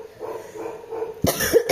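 A person coughs sharply twice near the end, close and loud, after quiet room tone at a meal of rice and pork.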